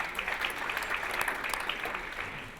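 Audience at an awards ceremony breaking into steady applause, a continuous spread of clapping from a crowd heard for a couple of seconds.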